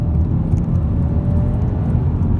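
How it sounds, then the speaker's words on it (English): A 2018 Hyundai i30 GDi turbo engine roars steadily under hard acceleration in second gear, a dense continuous low rumble with a faint rising whine, close and loud throughout. "we're going to floor the car in second now."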